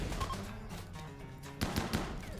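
Automatic gunfire in a space shooter game, rapid bursts of shots with a heavier cluster near the end, fairly close and dominant, with no talk over it.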